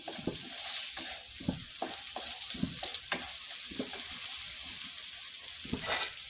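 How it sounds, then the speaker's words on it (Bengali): Pointed gourd (potol) and onion fry in a pan while being stirred and pressed, giving a dense, even sizzle with repeated utensil scrapes and knocks close by, and no talking. "পটলটা আমি ভালোভাবে নেড়ে চেপে নিচ্ছি"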